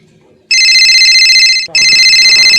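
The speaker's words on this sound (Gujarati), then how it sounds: "લે ફોન આવ્યો." Electronic telephone ringtone at a rural Gujarati home, a loud steady warbling tone that starts abruptly, pauses briefly, then resumes, with voices faintly in the background.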